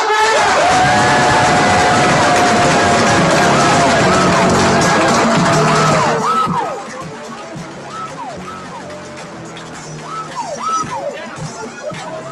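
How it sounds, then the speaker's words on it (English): An audience at an improv comedy showcase claps, cheers and whoops loudly for several seconds, then the noise drops to a quieter crowd murmur with scattered shouts and talk. "Please welcome to the stage with a huge applause"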